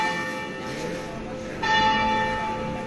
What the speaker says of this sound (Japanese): 教会の鐘が鳴ってますね。